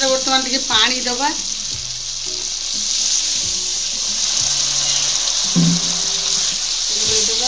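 Water is poured into masala frying in a pan for a potato and chickpea curry, a steady hiss of sizzling after a short splash, with a voice speaking intermittently.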